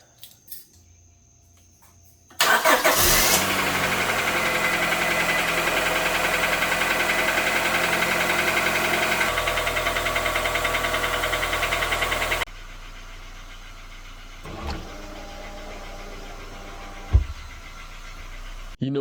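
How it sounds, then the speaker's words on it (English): A used Honda Accord engine cranks and catches after a quiet pause, then runs at a loud, steady idle that drops to a lower, quieter idle partway through, with a few faint clicks and knocks near the end. "Alright, we're gonna start her up."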